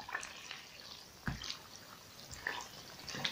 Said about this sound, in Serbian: sada ću sa jednom kašikom da ga spustim pod vodu